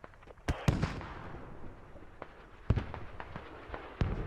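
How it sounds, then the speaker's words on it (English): A Grad rocket barrage lands in a combat video game, several sharp booming impacts at uneven intervals, each trailing into rumbling debris and distant crackle, with no talking. "grad barrage landing, and this might land"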